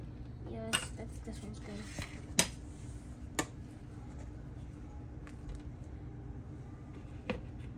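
Spoon knocking against a container of goat milk ice cream, a few faint scattered clinks and taps over low background hum.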